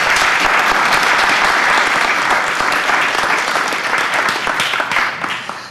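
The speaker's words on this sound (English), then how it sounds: "Can we give him a round of applause, please?" Audience at a metaverse meetup applauding, a loud dense burst of many hands clapping that holds steady and then slowly thins toward the end.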